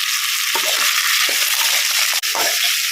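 Ivy gourd (tindora) pieces sizzling loudly in a hot pan, with steady bright frying hiss and a few scraping stirs of a spatula, close and continuous without talk.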